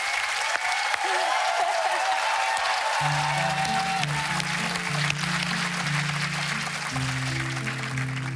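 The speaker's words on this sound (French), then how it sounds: "Du bruit pour lui, s'il vous plaît." A television singing contest audience applauds and cheers for a contestant, dense sustained clapping with crowd noise throughout, while a low sustained music bed enters partway through underneath.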